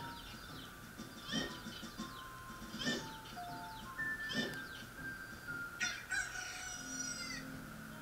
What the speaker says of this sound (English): Now they turn into chickens.